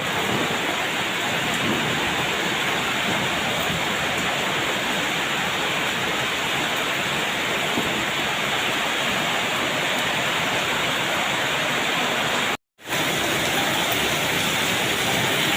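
Heavy rain pours in a steady, loud, dense wash with no pauses, broken only by a brief dropout near the end, and no one speaks.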